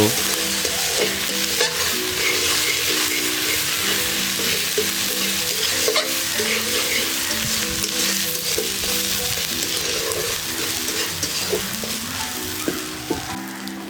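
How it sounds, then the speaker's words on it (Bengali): Spice paste with salt and turmeric sizzles steadily in a hot pan in a Bengali village kitchen while a spoon stirs and scrapes through it continuously, close and fairly loud, with no talking. "এই লবণ হলুদ গুঁড়োকে ভালো মতন মশলার সঙ্গে মিশিয়ে নিয়ে কিছুক্ষণ কষিয়ে নেব"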